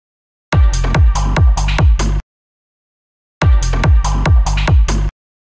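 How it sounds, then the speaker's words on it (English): A loud electronic music loop with a punchy kick, a chord and bright hi-hats plays twice, separated by a short silence. "I picked the part of the track where the kick drum is masked by other instruments"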